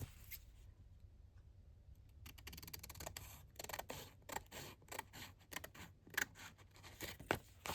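Paper being cut for a handmade trifold pocket envelope, quiet close scraping and snipping strokes that grow busier and more rhythmic as the cutting proceeds.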